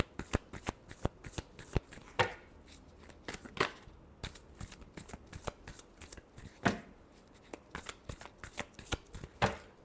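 Tarot cards being shuffled by hand, close and crisp, in rapid irregular bursts of riffling flicks and snaps that run throughout, with no talking.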